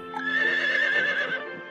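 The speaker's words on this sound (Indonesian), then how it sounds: "Gua mau kasih makan kudanya dulu." A horse in the video game Harvest Moon: Light of Hope being fed, giving a single loud, close whinny that rises and wavers for nearly two seconds, heard on its own without talk.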